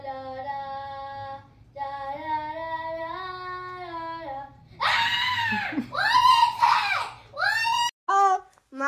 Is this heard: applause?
no